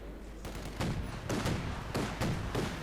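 Gunfire in Company of Heroes 2 during a 1v1 match, with snipers and riflemen engaged, arrives as several loud, overlapping bursts and cracks in close succession, filling the scene continuously.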